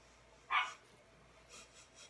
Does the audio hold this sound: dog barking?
yes